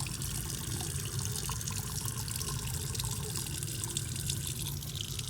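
Tap water running steadily while hands and wrists are rinsed under it, a continuous close splashing hiss with no talking.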